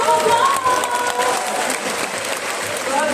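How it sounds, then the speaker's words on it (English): Loud audience applause at a bird show, a steady dense patter of clapping from a crowd that fills the whole stretch without a break. "Can we give one louder round of applause?"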